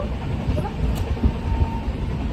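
Steady low rumble of a moving train on the Pune to Latur route, heard from inside a carriage, with faint murmuring and clatter throughout.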